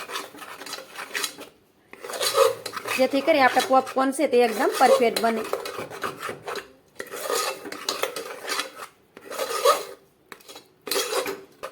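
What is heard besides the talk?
stirring raw sago pearls (sabudana) in a pan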